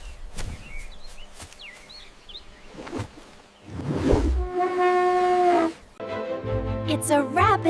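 An elephant trumpeting in a children's animal-sounds lineup, a loud sustained brassy blast after some scattered rustling and shorter calls, followed by another tonal cry.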